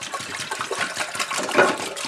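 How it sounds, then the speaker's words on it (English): Filtered spring water, about half a gallon, pours into a pot in a continuous splashing, gurgling stream, moderately loud and close, with no talking. "And you're going to take your filtered spring water. And we're going to pour about half a gallon"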